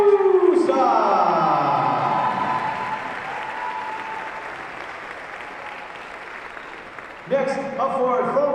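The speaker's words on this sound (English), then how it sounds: "Ladies and gentlemen, let's have a round of applause for number 12, Samantha" Applause from the crowd at a Tufts vs. Bowdoin women's basketball game greets a player introduction, broad and steady, tapering gradually over several seconds before a brief louder burst near the end.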